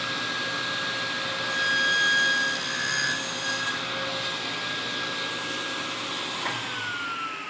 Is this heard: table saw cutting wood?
yes